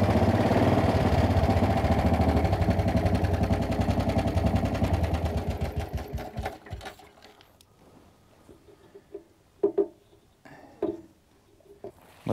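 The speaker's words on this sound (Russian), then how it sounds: "Мотоцикл BMW R20, мотоцикл Третьего Рейха, 33-го года" A 1933 BMW R20 motorcycle, a light prewar single-cylinder machine, runs loud with a steady close mechanical clatter for about six seconds, then dies away, leaving quiet with a few short knocks and bumps.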